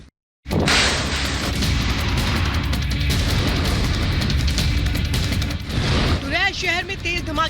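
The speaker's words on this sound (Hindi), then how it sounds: "शहर में तेज धमाके की आवाज" Heavy explosions in a city during the Russia-Ukraine war: after a brief silence, a loud sustained roar of blasts and rumbling booms fills the clip, with a wailing siren-like tone rising near the end.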